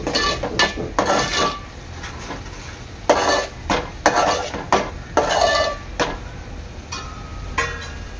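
Turmeric and coriander powder stirred into an egg curry in a pan: repeated scraping and clinking of a spoon against metal over a soft sizzle, in an uneven rhythm.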